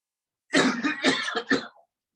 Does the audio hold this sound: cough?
yes